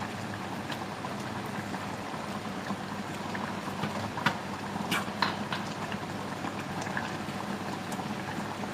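Phulkopi Manchurian sauce bubbling in a pan on the stove, a steady dense simmer with occasional sharper pops and spits, fairly quiet and alone with no talk.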